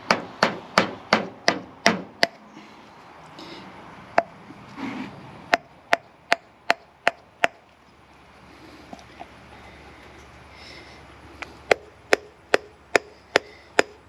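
Ball peen hammer tapping on metal around a thermostat mount, sharp close taps in quick bursts of six or seven with short pauses between, loud and crisp against a quiet room.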